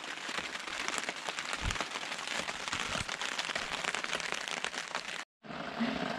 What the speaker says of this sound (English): It's starting to rain even harder now.